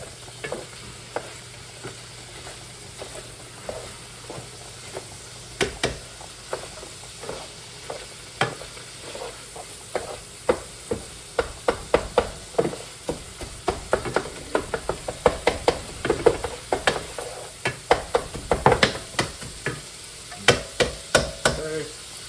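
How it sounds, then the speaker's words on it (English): Noodles with beef and oil are stirred in a hot pan, with steady sizzling beneath a mix of scraping and clacking utensil strikes that grow denser and louder toward the end, close up with no voices. "Stir the noodles, get some of that beef in there, the oil, won't stick."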